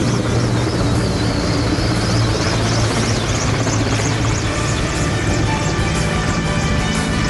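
Air force fighter jets roar low over Rajpath in Delhi during a flypast: a loud, steady, unbroken rumble that fills the whole stretch with no voices.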